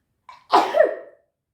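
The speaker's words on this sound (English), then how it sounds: "I need to sneeze." A single sharp sneeze bursts out after a brief quick inhale, close and loud, followed by silence.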